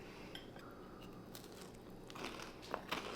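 Someone bites into and chews a crunchy chocolate chip cookie, with quiet, close crunches and crackles that grow louder near the end, no talking.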